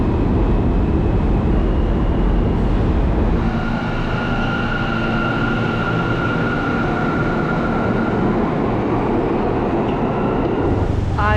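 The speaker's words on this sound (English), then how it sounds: "I'm taking the subway." A New York City subway train rumbles loudly from inside the car, a constant roar with a steady high whine running through it and a squeal at the very end, no voices.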